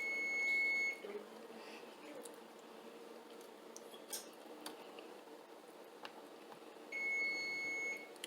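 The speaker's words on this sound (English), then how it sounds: "Okay, hold on, because it's beeping." Kitchen appliance beeps during home cooking of chicken on a rack: a steady electronic tone at the start and again near the end, with faint ticks and background noise between.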